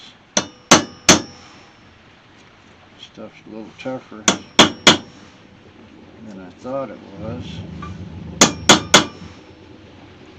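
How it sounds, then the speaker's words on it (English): Sharp metallic hammer strikes on stainless steel hood trim from a 1968 AMX, worked on a small anvil, ring out in quick bursts of three, with someone speaking briefly between the clangs. "Actually going to a little bigger hammer."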